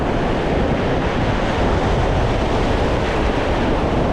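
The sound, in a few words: ocean waves on the beach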